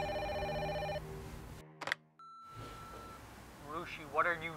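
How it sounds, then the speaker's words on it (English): A phone ringtone plays with repeated electronic tones, then cuts off abruptly amid brief clicks before background sounds and a voice-like warble return; faint and somewhat muffled throughout. "Pick up your phone."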